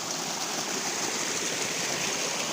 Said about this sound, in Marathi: आणि हा असाच पाणी पुढे वाहत वाहत